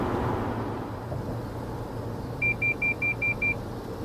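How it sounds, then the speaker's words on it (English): A 2014 Toyota Highlander Hybrid's lane departure warning sounds a run of six short, evenly spaced electronic beeps over the steady low hum of the cabin while driving. "That's lane departure warning, and it tells you when you've gone over the line."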